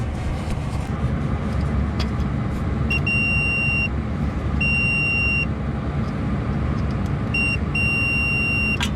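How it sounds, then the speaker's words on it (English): Multimeter continuity tester beeping while the windings of an AC compressor are checked: several sustained electronic beeps, some long and some short, sound over a steady low background rumble. "I've got continuity through all the windings."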